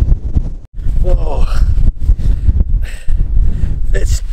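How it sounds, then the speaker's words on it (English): Gusty wind buffeting a microphone on high ground near a trig point, a loud, steady rumbling roar with a brief dropout, while a person talks over it. "Windy."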